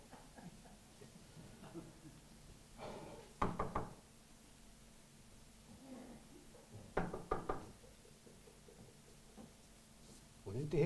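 Knocking on an apartment door, heard as a few distinct bursts of several rapid knocks spaced a few seconds apart, fairly close, with quiet voices murmuring in the gaps.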